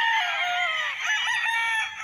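A dense chorus of roosters crowing and hens clucking on a farm lot in Liliw, Laguna, loud and near, with calls overlapping throughout.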